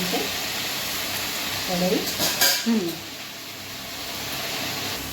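Jackfruit vegetable sautés in a pan with a constant sizzle and scraping stirs and clinks from a spatula, close by, while a voice speaks briefly in the middle.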